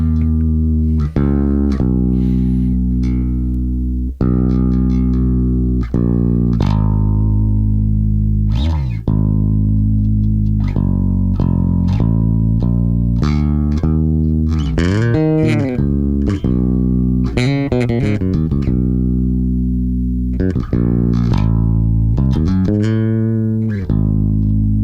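Bass guitar playing the intro of "You Are Jehovah": a loud, close, clean line of sustained low notes with slides and plucked attacks, played alone at a steady, unhurried pace.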